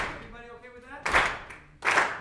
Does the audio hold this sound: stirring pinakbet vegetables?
no